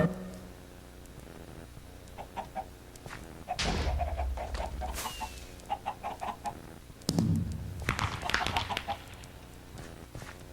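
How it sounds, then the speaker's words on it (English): Chickens in a block-building hide-and-seek game cluck in short, repeated bursts, loud and close, mixed with other game sound effects and occasional thumps, with no speech. "Chicken!"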